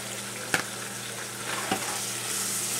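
Peppers and jalapeno are stirred into a Ghanaian corned beef stew, with a constant sizzle from the pan and a couple of sharp spoon scrapes against the pot.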